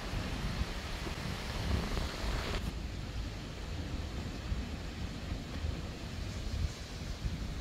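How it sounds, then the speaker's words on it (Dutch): Strong wind buffets the microphone in a steady, rumbling roar that never lets up, with no voices over it, on an outing in Norway. "Harde wind."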